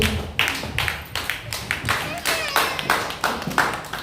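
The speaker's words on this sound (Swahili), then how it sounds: "Wakati unapiga makofi kwa ajili ya utukufu wa Bwana Yesu." A church congregation claps hands together in praise, a loose, fairly regular run of roughly a dozen sharp claps filling the room, heard close and moderately loud, with faint voices underneath.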